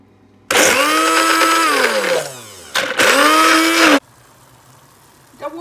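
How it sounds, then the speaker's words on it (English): A kitchen blender grinding beans and red peanuts coarsely runs in two loud, close bursts, its motor whining and dipping in pitch as it slows between runs, then falls quiet to a low background hum. "I'm now going to blend."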